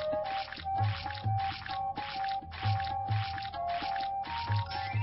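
Cream squelching wetly onto skin during a beauty step in a fashion makeover mobile game, soft dripping squishes repeating in a steady rhythm over a continuous bright game music bed.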